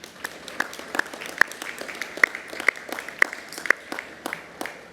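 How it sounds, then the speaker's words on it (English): Graduates at a university graduation ceremony in Ourimbah, Australia, clap for their parents and families: a sparse, faint scattering of individual claps, distinct sharp hits spread unevenly through a quiet room. "Graduates, can you please show your appreciation by giving a round of applause for your parents"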